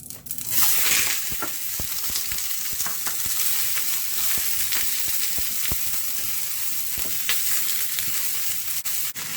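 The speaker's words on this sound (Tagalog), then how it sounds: "Mainit na po yung ating mantika. Ilagay na natin yung ating sibuyas." Onions drop into hot oil for ampalaya con carne, a loud initial burst of hiss settling into a steady crackling fry with frequent sharp pops and spatters throughout.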